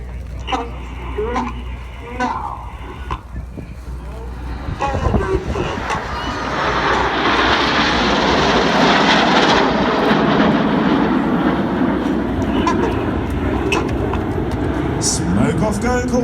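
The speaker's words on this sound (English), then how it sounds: "In from the left-hand side, it's Concorde." Jet aircraft fly past at a Red Arrows airshow in New York, with a low engine roar that swells into a loud, sustained rushing drone, and faint voices at the start.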